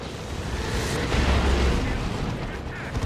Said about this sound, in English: Another D cannon for Queen